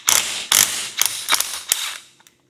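Small socket wrench ratcheting on Kranzle 1622 pressure washer bolts: several sharp, close clicking bursts in uneven succession, fading to a few faint ticks at the end.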